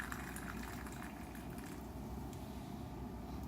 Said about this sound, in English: we are going to pour out our very nice and lovely cup of coffee